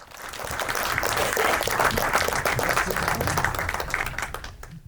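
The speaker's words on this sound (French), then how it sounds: "Monsieur Gérard Luchaine, un tonnerre d'applaudissements." Crowd applause at a film festival awards ceremony rises quickly, stays as a full, even wash of many hands clapping, then tapers away near the end.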